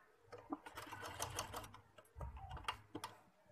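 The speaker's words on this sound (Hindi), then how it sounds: "दूसरी साइड लेके आएंगे और दूसरी साइड अपनी सिलाई को कंप्लीट करेंगे" A sewing machine stitches fabric while a mohri sleeve-hem design is sewn, a faint rhythmic mechanical clatter with uneven bursts and short pauses, heard alone and close.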